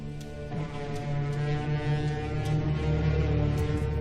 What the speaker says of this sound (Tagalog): Iyon ay tunog ng babala mula sa Hatoria.